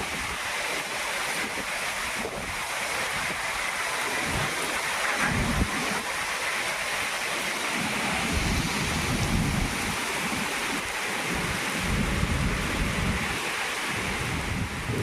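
A fierce village storm roars with strong wind and rain, a dense continuous rush with deep gusting rumbles and wind buffeting the microphone, no voices.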